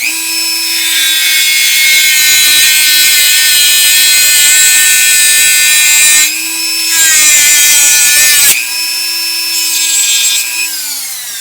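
A rotary tool with a cutting disc saws through a snap nail on a homemade snap bow, a loud, close, high whine that dips and surges several times as the disc bites into the metal.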